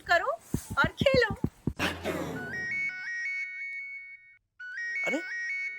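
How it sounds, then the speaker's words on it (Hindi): A mobile phone rings with an electronic melodic ringtone for an incoming call, repeating tonal phrases after a burst of lively talk and laughter, then pausing and starting again. "अरे हिंद माता वाले मेहमान का फोन"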